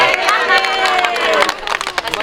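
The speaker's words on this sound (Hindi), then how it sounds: "साथ एक बार जोर से ताली बजाएंगे" Crowd of pilgrims clapping loudly and steadily at a morning gathering before a Braj Dham yatra in Mathura, dense applause with a cheering edge that thins and turns choppier near the end.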